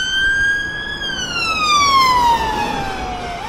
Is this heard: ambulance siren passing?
yes